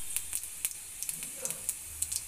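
Cumin seeds crackle and sizzle in hot oil in a kadai, giving a steady frying hiss broken by sharp, scattered pops at close range, with no voices over it.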